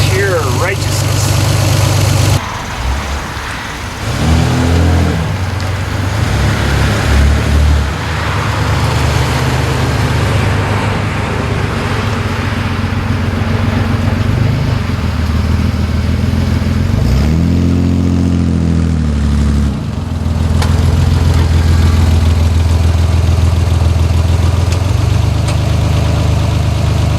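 A Ford Bronco II's 2.8 V6 engine runs with a loud, steady, close rumble that holds throughout, with slight shifts in tone along the way.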